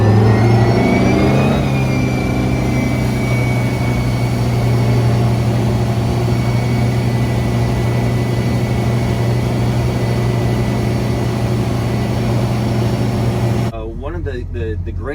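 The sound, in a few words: 2021 Supra SR surf boat taking off and accelerating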